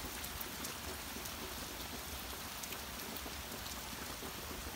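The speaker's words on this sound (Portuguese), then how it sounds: "Tá super fechado o tempo, gente, de chuva." Heavy rain pours steadily on a farm under an overcast late-afternoon sky, a dense even hiss of drops with no pauses, moderately quiet and without voices.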